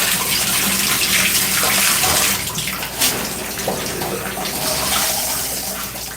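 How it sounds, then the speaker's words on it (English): Tap water runs steadily into a bathtub or sink as it warms up during a wash-and-go hair routine, a continuous close splashing gush with slight shifts in flow and no talk over it. "So we're gonna just get the water to warm back up"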